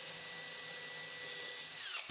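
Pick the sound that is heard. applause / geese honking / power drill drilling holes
power drill drilling holes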